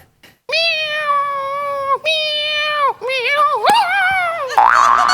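A man on a Marathi comedy stage imitates a cat, drawing out a series of loud, whiny meows, three long ones followed by a wavering, rising call, close and clear.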